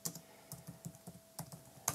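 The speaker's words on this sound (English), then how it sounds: "if we type ADB shell PM list packages" A laptop keyboard clicks as commands are entered, light and close, in short bursts of uneven keystrokes with brief pauses between them.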